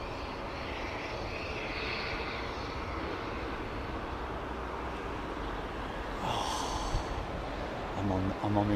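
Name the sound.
Emirates airliner departing Heathrow runway 09R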